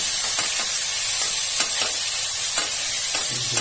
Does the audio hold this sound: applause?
no